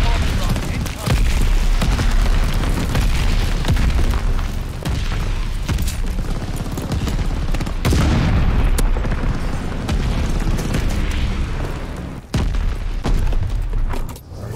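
Loud, continuous barrage of booming explosions from an aerial bomb run in Call of Duty: Vanguard on the Tuscan map, deep rumbling blasts overlapping with bursts of gunfire, with voices calling out over the din.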